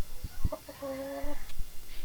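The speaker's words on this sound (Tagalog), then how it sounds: "isang roster na Peruvian dalawang upgraded na native na manok" A Peruvian rooster and two upgraded native hens in a breeding pen give a close, single drawn-out cluck, preceded by a few short knocks.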